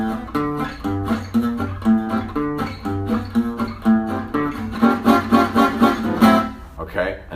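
Gypsy jazz guitar playing a minor-key intro, with rhythmic strummed chords and melodic lines over a low bass note, continuous and close, ending on a brief flourish.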